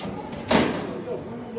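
The small door of a tabletop electric oven gives a single brief clunk as it is opened or closed, close by, while a person talks over it.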